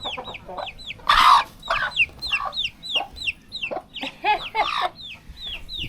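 A protective mother hen with her one tiny, newly hatched chick makes close, busy fowl sounds: quick strings of high, thin peeps mixed with soft clucks and a few louder bursts of calling.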